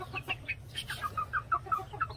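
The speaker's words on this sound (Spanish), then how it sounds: "Por aquí les muestro el pollito que vamos a mandar hoy a Texcoco" Clucking from a young three-quarter Kelso, one-quarter Asil cross chicken about two and a half months old, a run of short, close clucks and chirps repeating steadily over a low background hum.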